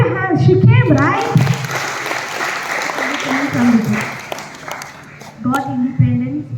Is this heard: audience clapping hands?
yes